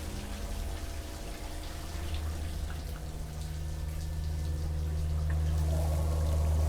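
Shower water running steadily in a television episode, a constant hissing pour with a low hum underneath that grows slightly louder toward the end.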